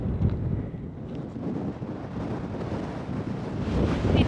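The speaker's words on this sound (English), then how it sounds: "it's really, really windy" Strong, cold outdoor wind buffeting the microphone in a dense, rumbling roar that swells and eases slightly and builds louder toward the end, with no voices.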